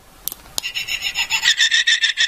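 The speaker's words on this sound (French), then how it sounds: "Donc pour Maître Yoda, il y a un bruit assez dégueulasse." A Master Yoda keychain figurine gives two sharp clicks, then plays a harsh, warbling electronic tone that pulses rhythmically, close and fairly loud, with no talking over it.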